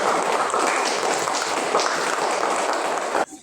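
Steady classroom applause for two student groups, a dense patter of hands that stops abruptly near the end.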